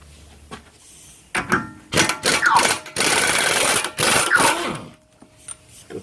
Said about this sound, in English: Let's give the rattle gun a go first.